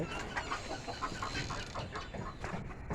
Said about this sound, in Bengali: বাইরে আরও কিছু প্রজাতির মুরগি আমাদের কাছে আছে